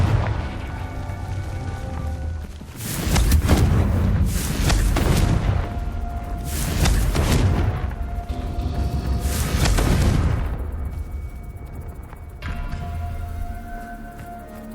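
Repeated Confringo fire spell blasts in Hogwarts Legacy, a series of loud booming explosions with rumbling tails arriving every couple of seconds and fading into quieter ambience near the end.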